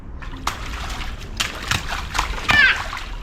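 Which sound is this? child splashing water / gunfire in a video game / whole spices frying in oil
child splashing water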